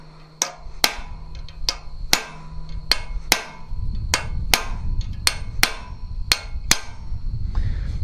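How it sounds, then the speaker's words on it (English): Hammer blows ring out on an iron acanthus leaf being forged, a dozen or so sharp metallic strikes at an irregular pace, close and loud, over a steady low rumble that swells partway through. "So as you hammer down in here, it's actually going to want to bend this away"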